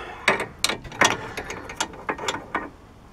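A puller is turned to press a tie rod end out of a VAZ 2107's steering, producing a close, loud series of ratcheting metallic clicks and grinding creaks in an uneven rhythm, with no speech.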